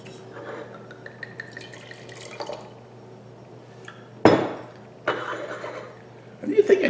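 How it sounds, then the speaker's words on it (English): Washington State Merlot is poured into a glass, with quiet background hum giving way to a sudden splashing gush and then a second burst of liquid, close and clear, with a voice speaking. "I'm taking it for granted that I actually know how to pour wine"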